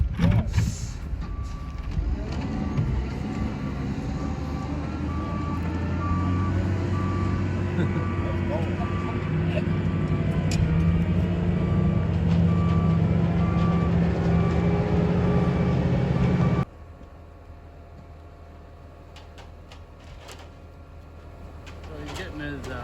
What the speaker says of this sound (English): This is a conveyor truck, like I said. It's got a conveyor belt on the back.